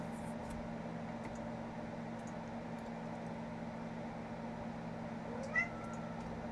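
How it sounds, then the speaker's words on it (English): A single short cat meow late in the clip, faint over a steady hum of room noise. "that was my cat"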